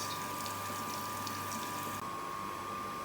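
Brewed iced tea rushes through tubing during a brew-day transfer, a steady, even hiss and gurgle of flowing liquid with a faint constant tone, continuous and close throughout.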